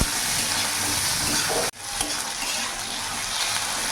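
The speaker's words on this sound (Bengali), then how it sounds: "আলুটা কিছুক্ষণ ভাজা ভাজা করলাম।" Potatoes sizzle loudly in a hot pan with onion, salt and turmeric as they are stirred, the steady frying hiss broken by one sudden brief gap before resuming.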